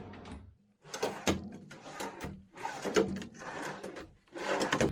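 Seven-centimetre full-extension wooden drawers in a workshop table built for a ZX7045 milling machine slide open and shut repeatedly, with rolling runner rumbles and clunks as each one closes.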